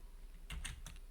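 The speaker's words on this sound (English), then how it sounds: "I'm going to type in the code for this particular color" A quick burst of three or four close, crisp keystrokes on a computer keyboard as a color code is typed, quiet and alone in a still room.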